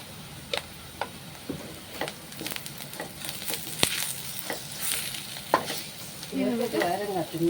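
Curry leaves and turmeric powder fry in oil for a pearl spot fish curry, with a soft sizzle under sharp, spaced stirring clicks of a spoon against the pan, growing busier toward the end.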